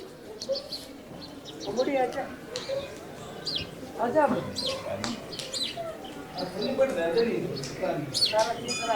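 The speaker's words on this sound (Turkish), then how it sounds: "Zaten güvercin sesleri falan var. Geliyor size." Pigeons coo and other birds chirp in the background, with a person talking over the calls throughout.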